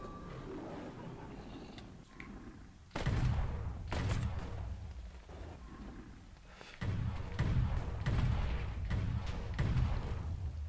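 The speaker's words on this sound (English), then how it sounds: "the cannon shoots from the front left wheel" A cannon firing from a vehicle's front left wheel in the game Minecraft, several heavy booming blasts in two clusters, each a loud thump with a roaring tail, separated by a quieter rumbling gap.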